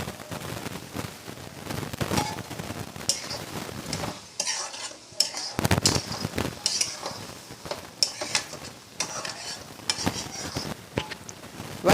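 Tomatoes for tomato thokku sauté in a pan with a steady sizzle while a spoon repeatedly scrapes and stirs, giving clattering strokes with a short quieter pause partway through.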